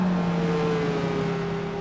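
A Honda NSX mid-engine supercar in Gran Turismo 4 holds a steady, loud engine drone with a slowly falling pitch, heard alone and close.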